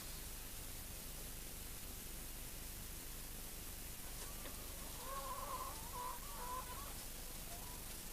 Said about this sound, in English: Restlessly wandering fowl are crammed into cages too small to even stretch their wings